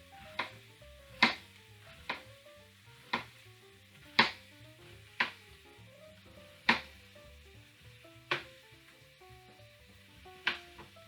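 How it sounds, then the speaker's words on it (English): A knife thinly slices a halved sweet onion on a cutting board, about a dozen crisp taps roughly one second apart, close and clear, with faint tonal background music underneath and no talk. "I'm going to slice them relatively thin"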